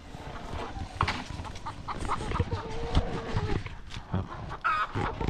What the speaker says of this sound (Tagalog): yun yung mga babae na manok ko